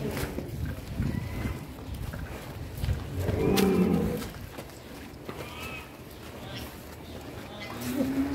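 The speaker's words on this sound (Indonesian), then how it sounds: "pengeluaran sapi terbesar ini Wisanggeni." A very large qurban bull, billed as the biggest in Indonesia, lets out a single deep low moo partway through, amid people talking and crowd noise at an outdoor weighing.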